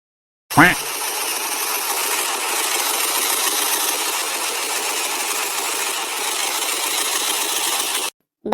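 A cartoon motorbike shifts into first gear and accelerates: a brief rising rev at the start, then a loud, steady, buzzing engine drone that runs for several seconds and cuts off abruptly.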